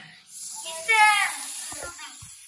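A voice imitates a snake's hiss during a kindergarten classroom guessing game: a short breathy, hissing burst close by, with other children and an adult talking around it.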